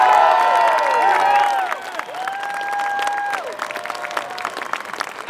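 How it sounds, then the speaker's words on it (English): Crowd applause and cheering at a Scottish independence march and rally, a dense wash of clapping that swells then gradually thins out, with a few sustained tones threading through the noise. "Please give a massive round of applause to Iona Soper"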